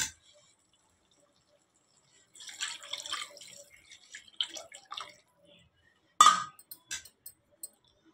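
Tamarind water poured into a simmering sandhuva fish curry, a wet splashing pour of a few seconds followed by a short burst and scattered drips and clinks, fairly quiet with no talking.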